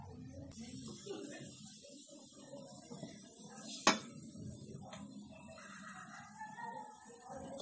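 Potato bhujia being served from a kadhai onto a plate, heard as soft scraping and clinking of a utensil on cookware, close and fairly quiet, with one sharp metallic clack midway.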